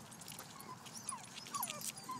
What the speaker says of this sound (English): it is a doggy, isn't it?